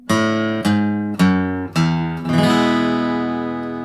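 Acoustic guitar single-note bass run from a song: four plucked notes stepping down on the low strings, then a strummed chord left ringing, played alone and close.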